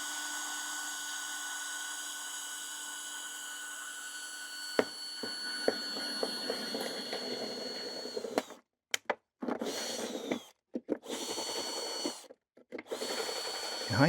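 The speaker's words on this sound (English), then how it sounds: "I'm drilling some holes in a plastic bottle" After a quiet stretch of faint hum, a power drill fitted with a Christmas tree bit starts up, drilling holes in a plastic bottle, whirring in short bursts separated by brief stops, close and loud.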